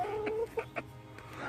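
Backyard chickens cluck softly in a few short calls and murmurs, close by over quiet ambient noise.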